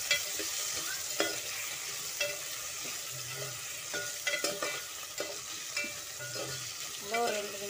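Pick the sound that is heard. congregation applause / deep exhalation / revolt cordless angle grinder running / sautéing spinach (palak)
sautéing spinach (palak)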